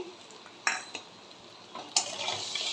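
A spoon stirs spice masala with green chillies in a pan on a low gas flame, giving a few distinct metallic scrapes and clinks over a soft background hiss, close and alone without talk.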